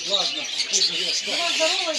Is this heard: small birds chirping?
yes